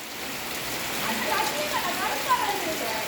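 Steady rain hisses in a broad wash close by, with a faint voice murmuring underneath.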